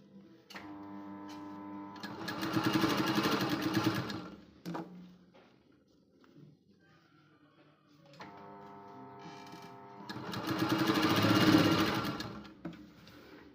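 A sewing machine stitches tucks on a blouse in two loud, rapid bursts of mechanical whirring and ticking, each lasting about two seconds, separated by quieter handling clicks and a pause.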